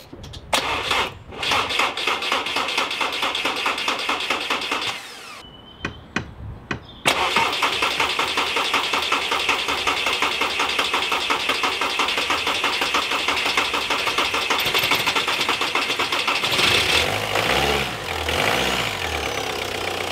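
An Audi TDI diesel car engine, after a tandem pump replacement, cranks a couple of times, catches and settles into a loud, steady rattling idle that continues close by.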